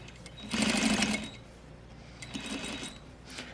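Sewing machine running a back stitch on gathered fabric: two short bursts of rapid mechanical stitching, the first louder, separated by a brief pause.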